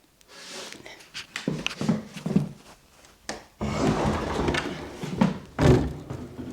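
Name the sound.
stiff sliding door to the kitchen being opened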